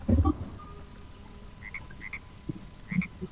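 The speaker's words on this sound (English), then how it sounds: "These frog noises are annoying." Frogs croak in the Minecraft Hexxit modpack: a loud low croak opens, followed by several fainter chirps and croaks, then another clear croak near the end over a quiet background.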